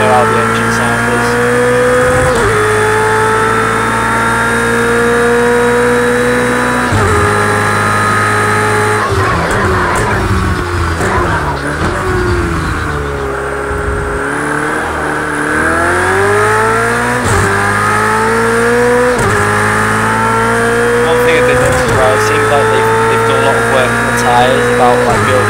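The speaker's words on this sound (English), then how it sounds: "You need to tell me about the engine sound if it's a bit too loud." A race car engine in Project Cars 2 screams loudly and continuously, its pitch climbing through each gear and dropping sharply at every upshift, with a dip in revs while braking midway before it winds up again.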